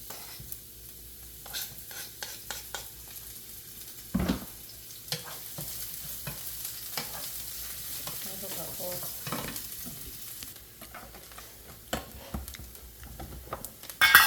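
Chopped onion sizzling in hot olive oil in a pan for sautéed cabbage with okra, a steady close frying hiss with occasional stirring clicks and scrapes, no talking.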